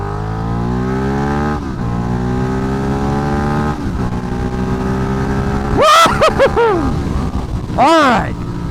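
Ducati Diavel motorcycle engine idling with steady harmonic drone, then sharp revs and rising throttle blips near the end, loud and close, with a voice talking over the start.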